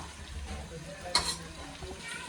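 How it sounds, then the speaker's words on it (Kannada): Onions frying in a pan of oil for a mutton biryani, a steady low sizzle with a brief stirring scrape in the middle, close and moderately quiet. "ಇವಾಗ ಆನಿಯನ್ಸ್ ಹಾಕೊಳ್ಳೋಣ. ಫ್ರೈ ಮಾಡ್ಕೊಳ್ಳಿ, ಆನಿಯನ್ ಎಲ್ಲ ಚೆನ್ನಾಗಿ ಬೇಯಬೇಕು."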